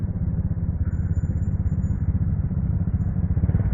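A motorcycle engine runs steadily close by, a low continuous rumble with a dense, pulsing throb that holds even for the whole stretch, with no voices over it.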